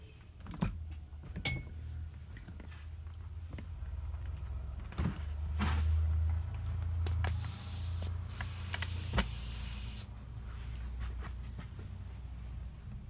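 A pump inflating a repaired bicycle inner tube: a steady whirring motor-like drone with intermittent clicks and rattles, rising in places and ending in a brief burst of hissing air, close by and with no talk.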